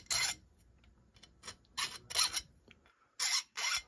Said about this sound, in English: I'll cut one more groove in here